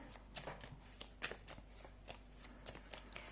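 Tarot cards are shuffled quietly, with soft riffles and flicks in irregular bursts against a faint low hum.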